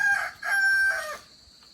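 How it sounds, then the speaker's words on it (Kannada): A rooster crows loudly and close by, a single drawn-out call in a few rising and falling segments, then fades into quiet background hiss. "ನಮ್ಮ ಕೋಳಿನೂ ನಿಮಗೆ ಗುಡ್ ಮಾರ್ನಿಂಗ್ ಹೇಳ್ತು"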